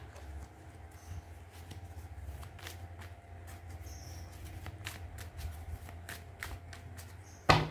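A deck of tarot cards is shuffled by hand in a quiet room, producing repeated soft riffling and flicking bursts in an irregular rhythm, close and clear, with a sharper tap at the end.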